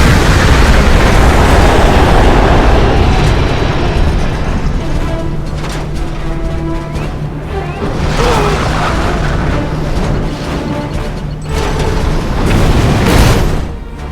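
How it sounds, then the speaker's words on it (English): EMP missile explosions in a video game air fleet attack, a long loud rumbling barrage with repeated booms and crackling bursts, under some background whine and effects. "Air fleet engaged. EMP missiles."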